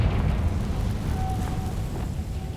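Confringo blasting spell exploding in the Hogwarts Legacy video game, a heavy rumbling boom that rolls on for a couple of seconds, loud and close, with a faint tonal ring drifting over the low roar.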